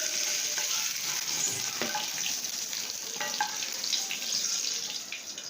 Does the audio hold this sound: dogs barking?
no